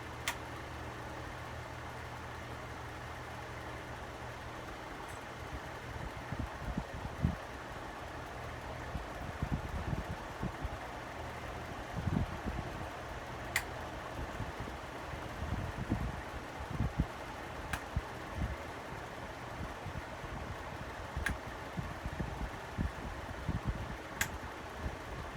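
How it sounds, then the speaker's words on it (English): A vintage Relite Airmaster commercial ceiling fan runs in a workshop alongside several other fans, giving a steady low whirring drone with faint irregular rumbles and a few soft ticks, no one speaking. "I have a lot of fans going in the shop right now"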